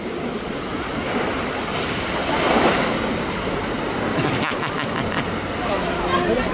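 Rushing, splashing water churns steadily on the Viking River Splash boat ride at LEGOLAND Billund, with wind buffeting the microphone and faint crowd chatter behind.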